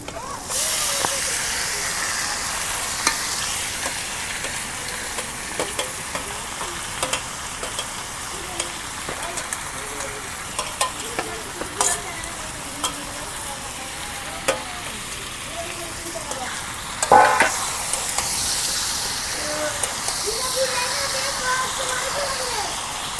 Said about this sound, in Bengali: বাড়াইছে, এখন বাগার দিই।